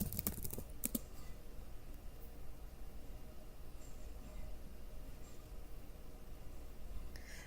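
Faint computer keyboard typing during a login, a few crisp clustered clicks at the start and then a low steady background hum with scattered soft taps.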